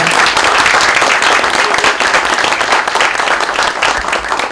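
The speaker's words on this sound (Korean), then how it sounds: "여러분 모두 함께 환영의 박수 드려주시기 바랍니다." Loud, dense welcoming applause from an audience at a political party youth press conference in South Korea, many hands clapping continuously at close range with a few faint voices mixed in.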